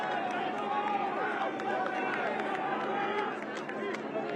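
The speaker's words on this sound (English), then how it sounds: "you can still hear these fans cheering" Rugby fans in a stadium during a Toronto Arrows match against Old Glory DC keep up a steady, distant crowd roar and chatter, with a commentator talking over the top.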